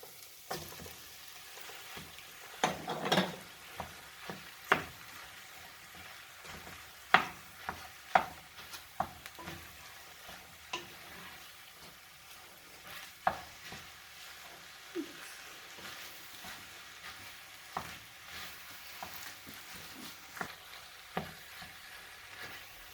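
Minced meat sizzling in a pan with softened onion and carrot, a steady frying hiss beneath frequent stirring scrapes and clicks of a utensil, with no talking.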